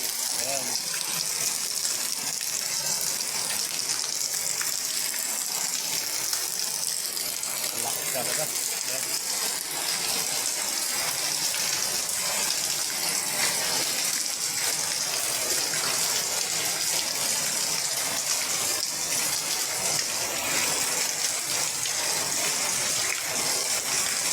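A steady, heavy typhoon downpour roars without pause, a dense hiss of rain that stays loud and even throughout.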